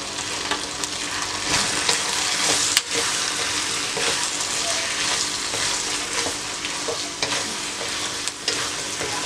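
Chili chickpeas sizzling steadily in a hot pan while being stirred, a continuous close frying hiss with occasional scraping clicks from the spoon, heard alone without speech.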